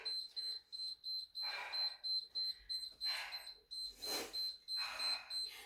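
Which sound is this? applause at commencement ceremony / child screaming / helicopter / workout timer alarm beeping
workout timer alarm beeping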